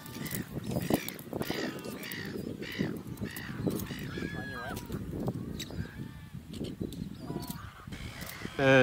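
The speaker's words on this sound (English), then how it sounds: "And there's tens of thousands of straw-necked ibis nests." A busy breeding colony of straw-necked ibis on Mud Islands fills the air with dense, overlapping honking and croaking calls, near and far, in an uneven chorus that continues throughout.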